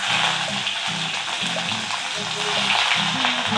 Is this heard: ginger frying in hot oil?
yes